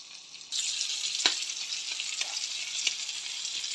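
Onions frying in butter in a pan for fruit fried rice, a steady loud sizzle starting abruptly as they go in, with a few stirring scrapes and no talk.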